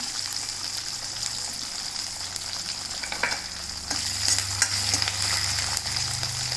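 Onion and curry leaves hit hot oil for a mango dal, giving a loud, continuous sizzle and crackle with occasional stirring scrapes, intensifying slightly midway and with no talking over it.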